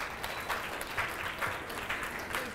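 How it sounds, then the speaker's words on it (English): An audience claps to welcome a woodwind quintet to the stage, a steady, dense wash of many hands applauding at moderate volume without a break. "So let's welcome them, clap their hands"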